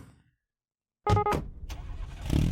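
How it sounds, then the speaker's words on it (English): A car in a night-driving video game roars to life after a moment of silence, with a sharp burst of engine and tire noise, then a short lull before the engine surges again. "I put the pedal to the floor. The wheels screech as we pull out into the lane."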